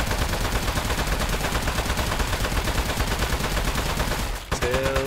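Rapid, continuous automatic gunfire rattles loudly in the Low Paying Job Simulator video game, a relentless stream of shots that breaks off briefly before resuming.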